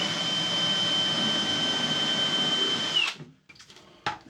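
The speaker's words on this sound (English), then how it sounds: "drill a pilot hole up through to join the base to the upper" Power drill boring a pilot hole up through wood to join a miter saw station base to its upper, a steady high whine for about three seconds that winds down and stops, followed by a couple of brief knocks.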